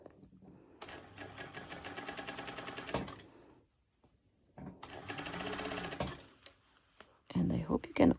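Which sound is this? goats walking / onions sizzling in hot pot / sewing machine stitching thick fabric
sewing machine stitching thick fabric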